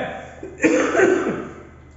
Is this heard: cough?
yes